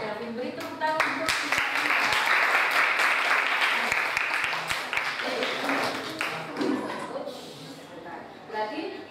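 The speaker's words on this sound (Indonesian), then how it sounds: "Beri tepuk tangan" Audience applause at an Indonesian classroom-style presentation, a sustained burst of many hands clapping that swells and then tapers over several seconds, with some voices underneath.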